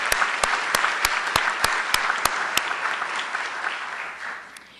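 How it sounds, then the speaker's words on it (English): Audience applause for two new faculty members at a university general faculty meeting, a steady roomful of clapping with a few sharp, close claps standing out, easing off near the end. "Let's give these two faculty a round of applause."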